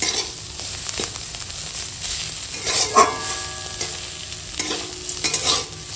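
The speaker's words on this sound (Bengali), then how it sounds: "এখন মূলো শাকটা রান্না করে নিচ্ছি লঙ্কা ফোড়নে রান্না করছি" Radish greens frying in a chili tempering in a pan, a steady loud sizzle under repeated scraping stirs and clinks of a spatula, close by and with no talking.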